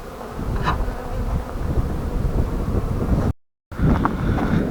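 Honeybees buzz around an oak log hive at an apiary after overwintering, a dense close droning hum with wind buffeting the microphone and a brief dropout near the end.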